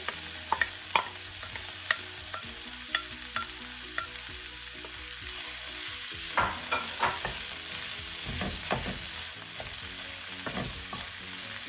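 Fish sizzles in a pan of spice powder for a Tamil spinach fish pittu, with a steady frying hiss and scattered utensil scrapes and clinks as it is stirred; no voices.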